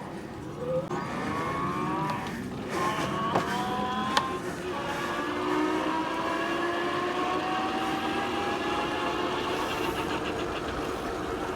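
A Civilized Cycles Model 1 electric bike accelerates on its twist throttle, its motor whine gliding steadily upward in pitch over a constant bed of wind and road noise.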